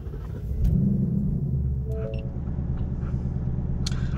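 A 2019 Ford Mustang GT V8 running on E85 fuel fires up and settles into a steady, deep rumbling idle, loud and close with no talk over it.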